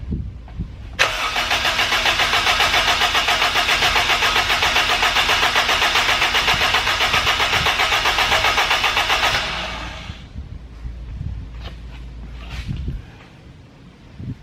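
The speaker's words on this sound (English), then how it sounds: "Give the motor a chance to turn around, everything, start to get a fresh coat of oil" A Honda Civic EK hatchback's rebuilt K20 engine cranks with a rapid, steady churning for several seconds, then catches and settles into a running idle.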